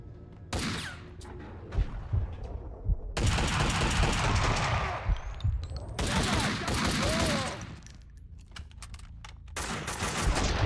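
Dense gunfire bursts in the video game Max Payne 2, loud automatic fire in long fusillades separated by brief lulls, with scattered single shots and impacts throughout.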